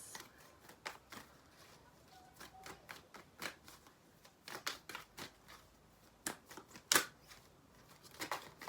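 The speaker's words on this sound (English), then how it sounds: "I'm going to pull some more cards out of this." Tarot cards shuffled and drawn from a deck, a run of quiet, crisp riffling snaps and flicks close by with one sharper slap near the end, no talking.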